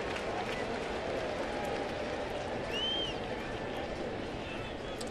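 A baseball stadium crowd during a Pittsburgh at St. Louis game keeps up a steady, dense wash of cheering and applause throughout, with a commentator talking over it.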